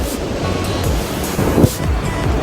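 Surf rushes and churns steadily on Lingayen beach, Pangasinan, with wind buffeting the microphone and a wave swelling loudest midway; no voices.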